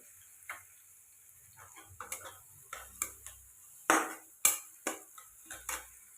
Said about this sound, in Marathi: आता कांदा मस्त परतून घेतोय मी.